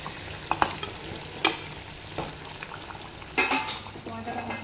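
Meat cooking in a covered pan of oil with a little water, a faint sizzle underneath with scattered sharp metallic clinks and scrapes of a utensil against the pan at irregular moments.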